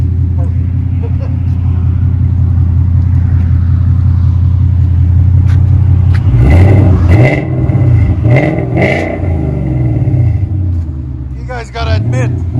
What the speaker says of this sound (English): Especially you took that resonator off and put an X pipe too. That's why it's so throaty.